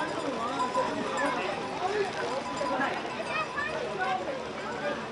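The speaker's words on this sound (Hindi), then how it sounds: "जगह जगह पे इस तरह से घोड़ा आता है, घोड़ा पे सामान लगा हुआ रहता है" Pack horses carrying loads plod along the snowy Kedarnath trekking track, their hooves clip-clopping in an uneven rhythm nearby while people talk and chatter over them.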